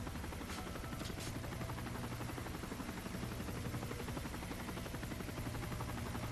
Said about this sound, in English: Oh, chopper.